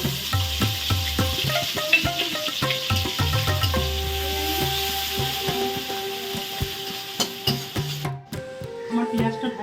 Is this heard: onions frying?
yes